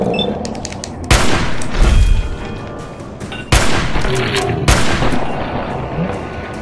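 Gunfire in the video game Fallout 4, several sharp loud blasts and booming shots over a continuous rumbling battle background, with no talking.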